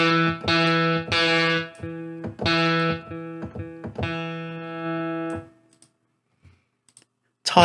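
A Spitfire Audio LABS guitar sample played near the bridge repeats as bright, plucked notes in a steady pattern, loud and upfront, then fades to near silence before a final noisy burst.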